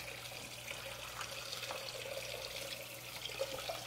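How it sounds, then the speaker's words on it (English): Hot tap water running into a pan being filled about halfway for a bain-marie water bath, a steady faint stream and gurgle in a kitchen sink. "Turn on the water, make sure it's hot."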